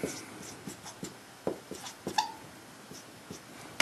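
Chalk or marker writing a word on a board, a series of short scratchy strokes and taps in quick irregular succession, close and moderately loud, with no speech over it.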